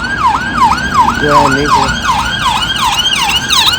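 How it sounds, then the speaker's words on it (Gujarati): An ambulance siren passes on a London street, wailing loudly in a steady up-and-down cycle throughout, with traffic noise beneath it and a brief voice speaking partway through. "ઇમરજન્સી એમ્બ્યુલન્સ હતી"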